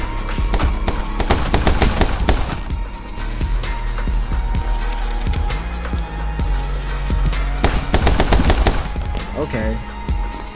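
Rapid gunfire in the action game My Friend Pedro, dense bursts of loud shots cracking over pulsing background music, nearly continuous with brief lulls, no one speaking.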